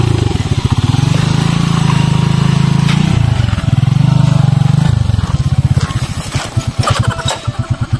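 A habal-habal motorcycle taxi engine runs loud and close, revving up and down in rough pulsing surges before sputtering unevenly near the end.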